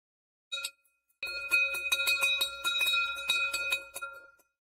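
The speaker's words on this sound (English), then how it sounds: "Bell, please." A bell rings during a history lesson: one short strike, a brief pause, then about three seconds of rapid, repeated ringing with a bright sustained tone that fades out at the end. No one speaks.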